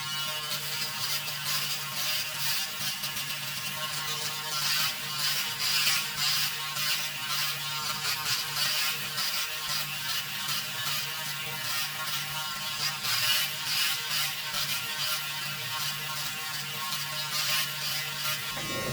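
A Braun Series 5 electric foil shaver buzzes continuously at close range while shaving a head, its whirring hum steady with slight fluctuations as it moves over hair.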